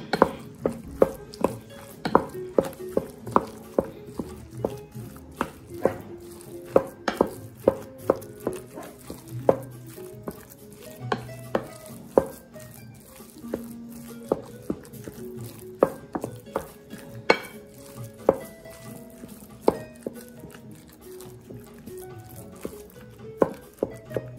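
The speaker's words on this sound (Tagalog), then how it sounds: "Tapos i-mix ulit po natin." Lumpiang shanghai filling with chorizo being mixed in a bowl, making a steady run of sharp utensil knocks and clinks against the dish, close up with no talking.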